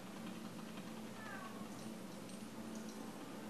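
A cat in a LEGO Harry Potter video game gives a short, faint meow partway through, over a quiet steady background hum with no talking.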